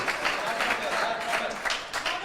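Spectators at a professional squash tour final in Indore, India, applaud in short bursts of clapping, moderately loud and fairly close, with a brief pulsing rhythm over a couple of seconds.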